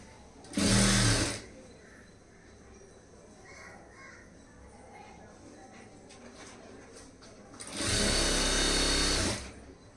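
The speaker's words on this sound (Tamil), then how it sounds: "கரெக்டாக அதுக்கு நேராக தையல் போட்டுடலாம்." A sewing machine stitches a high neck blouse in two loud bursts, one near the start and one near the end, with a quieter stretch between them.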